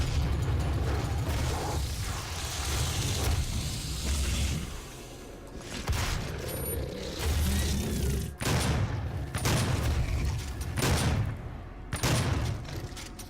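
The BFG weapon fired in the video game Doom, giving heavy booming blasts and bursts with a long rumbling tail, repeated several times over loud continuous game noise and a few mechanical clanks.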